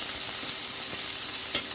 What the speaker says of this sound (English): Then add 1 cup of onion and stir it until it gets brown.